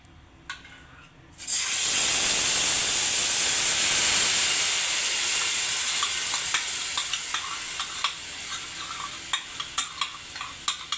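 Poppy seed and almond paste hits hot oil with a sudden loud burst of sizzling hiss after a quiet start. The hiss slowly fades while scraping stirs knock in irregularly toward the end.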